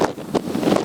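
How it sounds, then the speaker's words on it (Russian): Strong wind buffets a microphone at the Krasnyuk dunes, loud, rough rumbling gusts pulsing irregularly through a short burst without any speech. "Ветер дубасит капитальный, рыбаков всех разогнало."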